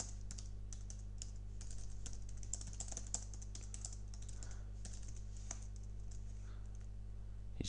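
Text being typed on a computer keyboard, a quiet, steady stream of rapid key clicks with irregular rhythm over a low constant hum, no voices.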